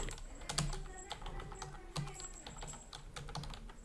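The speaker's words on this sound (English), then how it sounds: "In the search plugins box, type here limit login" Fast, light clicks of a computer keyboard as someone types a search into a WordPress plugin box, with a few sharper key taps among steady quiet tapping, close and alone.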